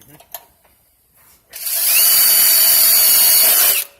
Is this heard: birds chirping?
no